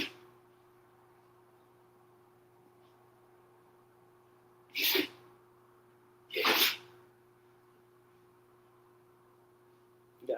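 Two sharp sneezes, a couple of seconds apart, burst out against an otherwise quiet room with a low steady hum.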